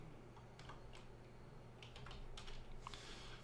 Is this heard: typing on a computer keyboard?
yes